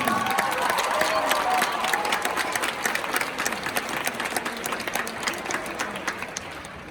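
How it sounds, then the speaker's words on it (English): Steady applause from a crowd at a team recognition gathering, sustained clapping that slowly softens over several seconds with voices murmuring beneath it. "One more round of applause for them"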